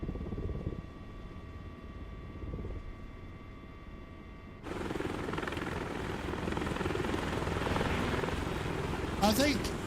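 Simulated MH-60 helicopter rotor and turbine drone in a flight simulator game, a low steady hum that suddenly swells louder and broader partway through, with a brief sharper sound near the end.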